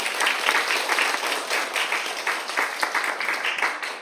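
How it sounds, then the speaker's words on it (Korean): Applause at an award ceremony for corporate social contribution, held in Gangdong-gu Office, brisk clapping from a seated audience that swells and rolls steadily for about four seconds. "고도형 큰 박수 부탁드리겠습니다"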